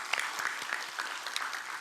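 Church congregation applauding teachers at a Sunday service, a steady, moderately faint patter of many hands clapping together without any speech.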